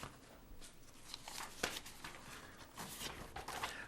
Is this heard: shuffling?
yes